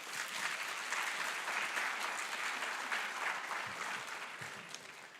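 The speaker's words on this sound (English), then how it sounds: "let's give our family members a round of applause" Sustained applause from a ceremony audience at a physical therapy program white coat ceremony, dense and steady throughout, thinning slightly toward the end, with no talk over it.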